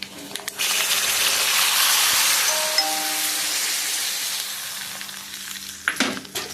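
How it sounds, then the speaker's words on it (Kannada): Tempering for radish sambar crackling in hot oil, a strong close hiss and splutter that starts abruptly and slowly eases, ending with a louder burst as it is poured or stirred. "ಒಂದು ಒಗ್ಗರಣೆ ಕೊಟ್ಟು ಮುಚ್ಚಿಡುವ."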